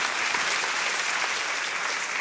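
A church congregation claps together in steady, dense applause, filling the room evenly and continuously without voices standing out.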